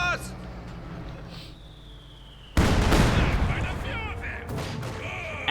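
Gunfire and mortar blasts from a Company of Heroes 2 match, a sudden loud burst of explosive fire about midway that stays dense, with someone talking over the game in the first half.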